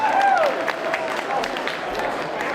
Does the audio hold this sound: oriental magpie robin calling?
no